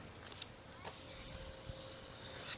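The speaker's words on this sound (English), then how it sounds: "So this is an ultra hard, ultra fine Arkansas oil stone." Fillet knife drawn across an ultra hard, ultra fine Arkansas oil stone, faint soft rasping strokes, quiet and close, with a few brief scrapes.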